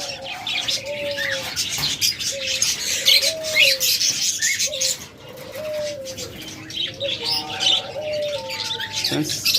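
Caged lovebirds and cockatiels in a bird sale setting, giving repeated clear chirps and whistled calls over a busy background of bird chatter, close and fairly loud, with a short lull midway.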